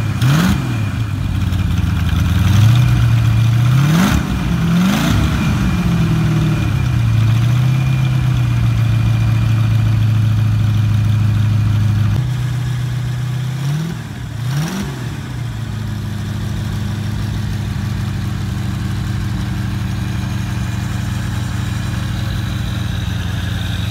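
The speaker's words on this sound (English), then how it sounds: "This is about 250 horsepower, 284 cubic inch motor." A 284 cubic inch, roughly 250 horsepower flathead engine with a Scott blower, Stromberg carburetors and MSD ignition, idling loud and close with a lumpy rumble and revving sharply several times before settling back to a steady idle.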